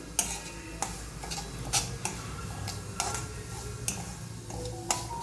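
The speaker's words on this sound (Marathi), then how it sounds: "रवा गुलाबी रंगावर भाजून घेणार आहे मी." Semolina roasting in a pan for strawberry halwa, stirred with a spoon that knocks and scrapes sharply against the pan every second or so over a soft, steady sizzle.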